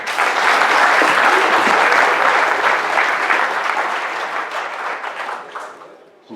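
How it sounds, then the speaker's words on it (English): A conference audience gives a speaker a warm round of applause, loud and dense at first, then gradually thinning and fading out. "Please give a warm applause for Willem."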